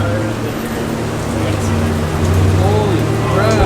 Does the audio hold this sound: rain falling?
yes